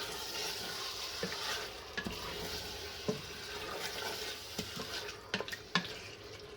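Meat with garlic, onion and ginger sizzles in a hot pan over maximum heat, with a steady frying hiss broken by repeated scraping clicks of a utensil stirring, close and alone.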